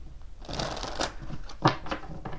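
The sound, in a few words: shuffling tarot cards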